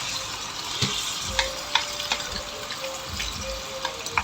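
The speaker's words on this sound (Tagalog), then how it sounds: "kumulo na siya kasi mainit na yung tubig. Kaya, ayan, halu-haluin lang natin ng konti" Fried parrotfish simmering in a pan of boiling sauce while being stirred, a steady bubbling sizzle with soft scrapes and clinks of a utensil against the pan, close and continuous.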